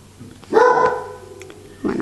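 A pet dog barks loudly at close range, one sharp bark followed by a pause and then the start of another, with no voices.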